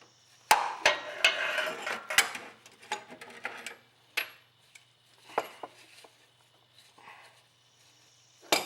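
Sparse metallic clicks and ticks from a socket being spun by hand while threading an oil pressure sender into a 1996 Honda Accord engine, close and fairly faint with gaps between.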